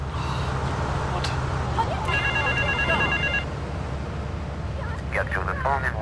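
A telephone rings in the GTA 3 video game, a repeated electronic ringing burst heard under game noise and a low engine-like drone, with talking over it.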